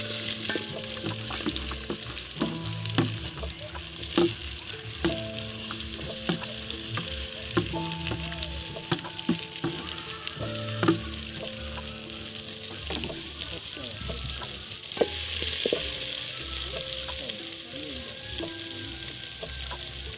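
Tomatoes, green pepper and carrot sizzle steadily in a hot pan for chicken-flavor beans, with occasional stirring scrapes and soft clinks; music plays underneath throughout.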